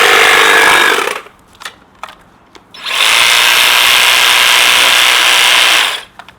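A commercial battery-powered hedge trimmer runs in two loud, steady bursts of high-pitched motor whine and blade buzz, separated by a short pause with a few faint clicks.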